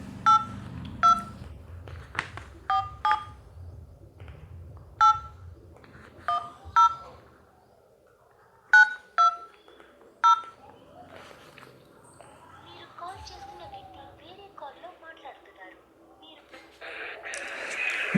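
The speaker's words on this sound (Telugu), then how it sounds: "ఫస్ట్ గిరి అనే బ్రోకి మనం ఫోన్ చేద్దాం" A phone being dialed to call someone gives a run of sharp, evenly spaced keypad tones, loud and clear, then the line goes quieter with faint rustling and a rising noise at the end.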